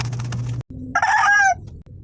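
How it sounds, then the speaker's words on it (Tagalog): A rooster crows once, a loud, wavering call held for about half a second, preceded by a low mechanical hum and brief clatter. "tilawak ng aking manok na alaga"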